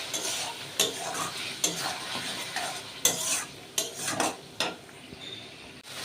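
Fish and potatoes sautéing in a pan, a quiet sizzle broken by repeated scraping and clinking of a utensil against the pan in uneven strokes.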